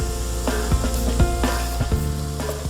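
Ginger sizzles in hot oil in a pan for mutton curry, a steady loud frying hiss with a few scraping stirs and knocks against the pan, heard up close.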